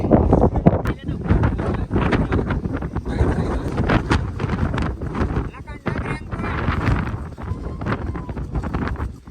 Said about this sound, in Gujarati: નીચે બેસી જવાનો પવન બહુ જ છે.